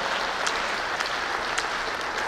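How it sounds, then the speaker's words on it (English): A church congregation claps steadily in continuous applause, moderately distant and fairly quiet, with a few sharper claps standing out and no talking over it. "if you're clapping for the Lord, go ahead and clap for the Lord"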